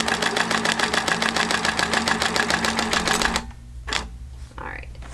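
A Q'Nique longarm sewing machine, freshly fitted with a replacement motherboard, stitches in a steady rapid mechanical rhythm, loud and close, then stops abruptly, leaving a faint hum as a person begins speaking.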